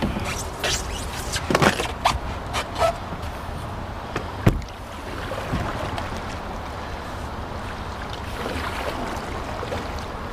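A canoe is paddled through rough water in strong wind, with close splashy paddle strokes and knocks against the hull over a constant wind roar, and one sharp thud partway through.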